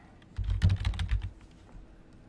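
Quick clatter of keystrokes on a computer keyboard as a password is typed, a close burst of taps lasting about a second, then quiet room noise.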